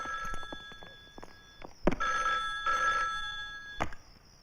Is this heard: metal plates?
no